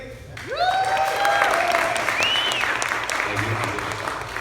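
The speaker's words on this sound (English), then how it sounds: "Huge round of applause for Christopher Bishop." Audience at a live comedy show gives a loud, sustained round of applause, close and continuous, with whoops and cheering voices rising over the clapping.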